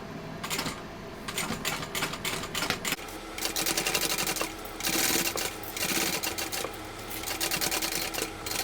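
A sewing machine stitches a bag seam close to the zipper tape in rapid mechanical bursts, starting and stopping several times, close and clear with no talking.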